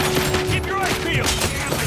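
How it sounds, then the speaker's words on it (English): Rapid video-game gunfire in the first-person shooter Robocop: Rogue City, a dense continuous burst of shots filling the whole moment with constant loud crackle and a steady tone underneath. "Keep firing!"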